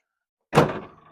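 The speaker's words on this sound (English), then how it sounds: "Door closes good with it in the back." The door of an Intermediate Gunner Kennel, fitted in the back of a pickup truck, shuts with a single solid thunk after silence, close and loud, with a brief ringing decay.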